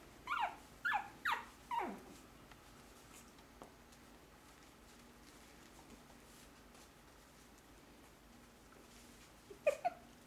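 Four short, high whimpers from Shih Tzu puppies, five and a half weeks old, come in quick succession nearby. After a quiet stretch with faint small sounds, two more whimpers follow.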